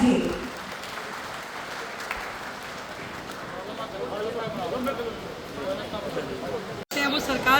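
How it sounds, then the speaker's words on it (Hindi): An audience of workers claps at a Labour Day gathering in Delhi. Steady, moderately loud applause runs throughout, with background crowd noise and a voice speaking over it. "हाथ ऊपर करके जोरदार तालियां एक बार बजा दीजिए"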